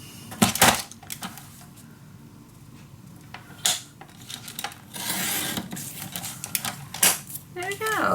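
Scissors snip through patterned paper for a handmade mini album, a few sharp close cuts and rustles scattered between quiet stretches.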